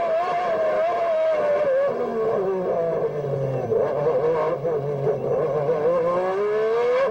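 A Formula One car engine screams at high revs during an onboard lap at Suzuka, a loud, continuous tonal whine rising and falling through gear changes across the whole stretch, with no talking.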